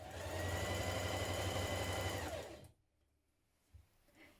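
Sewing machine running steadily along the centre back seam of a Style Arc Adeline spring dress, a close, even whir for about two and a half seconds, then stopping into near silence with a small clunk.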